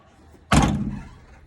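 A door on a right-hand-drive Daihatsu Hijet farm truck is shut with a single loud, close slam, followed by a short fading rattle.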